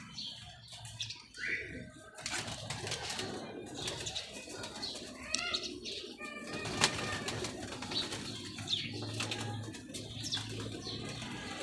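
Pigeons fluttering and flapping their wings with soft cooing and chirps, fairly close, amid faint background noise and occasional voices.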